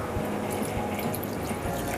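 Water for boiling squid, with soft drips and liquid sloshing close by in a steady, low-level wash, no voices.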